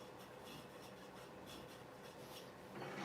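A hollowing tool on a wood lathe cuts inside a spinning piece of turned wood, opened up with a swinging motion; a steady close-up rasping, scraping hiss runs throughout, swelling slightly toward the end.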